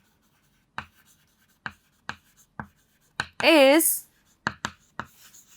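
Sharp pen or marker strokes tap out an equation in short, separated bursts, with one longer squeaky stroke partway through; someone talks over the writing.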